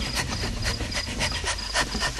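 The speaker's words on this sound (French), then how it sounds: "Ce halètement. Mais quel gros chien!" A large dog pants steadily close by, quick rhythmic breaths with airy bursts, alone and fairly loud throughout.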